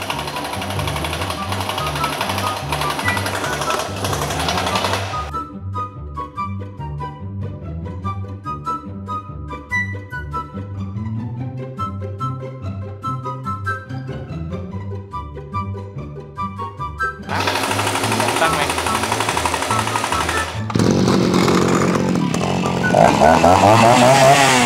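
RELOAD 143 grass cutter's small two-stroke engine revving loudly and steadily, with a buzzing drone that climbs to a higher, harsher pitch in the last seconds, with no voices.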